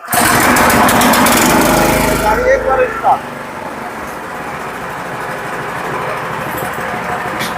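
A small power tiller engine roars loudly up close for about three seconds, then drops to a quieter, steady running chug that continues to the end.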